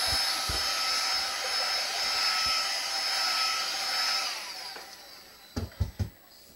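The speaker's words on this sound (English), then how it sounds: "We need to heat first the back cover, the battery cover," A hot air gun blows steadily onto a phone's back battery cover to heat it, a loud continuous whooshing hiss lasting several seconds before cutting off, followed by a few brief handling clicks.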